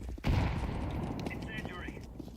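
A grenade goes off in a first-person shooter game, a single sharp thump early on followed by scattered distant gunfire and game effects in a busy, moderately loud mix.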